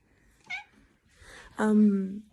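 A pet cat meows twice nearby: a short faint chirp, then a louder, longer drawn-out meow that slides down in pitch.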